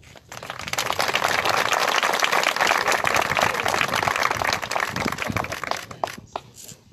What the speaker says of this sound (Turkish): güçlü bir alkış istiyorum